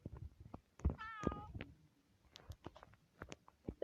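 A pet cat gives a short, wavering meow amid a few soft clicks and thumps in a quiet room, with brief scattered noises following.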